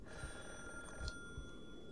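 In the horror game Calling, a telephone trills quietly and steadily beneath soft recurring low thumps, heard alone without any voices.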